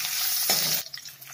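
Loud, hissing sizzle of ginger dropped into hot oil, swelling briefly then settling into a softer, crackling fry.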